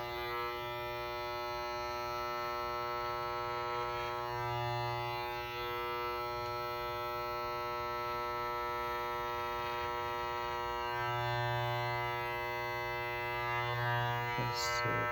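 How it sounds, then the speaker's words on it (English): An electric hair clipper cuts a wig, a steady electric hum running throughout at moderate level with a few brief shifts in tone. "So now let's just use the clipper."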